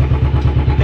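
A motorcycle engine with a low battery runs close and loud, a steady low chugging throb with rhythmic clatter.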